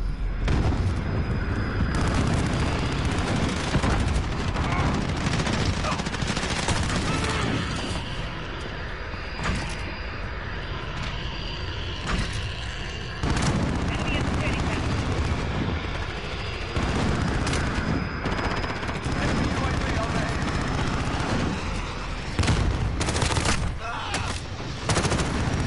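Shotgun blasts in a video game, loud repeated bursts mixed with other gunfire and booms in a dense, chaotic firefight, with occasional voices underneath.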